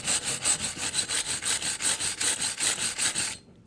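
Rhythmic back-and-forth scraping of a wire brush scrubbing a Polaris 50cc two-stroke cylinder, about a dozen even strokes close up, stopping abruptly near the end.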